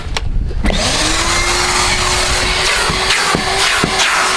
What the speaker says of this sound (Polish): jak widać odkurzacz naprawdę ma dużą moc